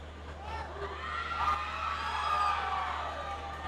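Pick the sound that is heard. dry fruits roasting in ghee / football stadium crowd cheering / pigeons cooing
football stadium crowd cheering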